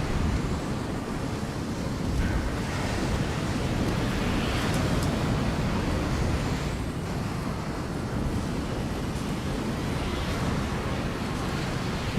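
Broad, steady roar of wind and ocean surf while flying over open sea in the game Enslaved: Odyssey to the West, a continuous wash with no distinct events, filling the whole stretch at even loudness.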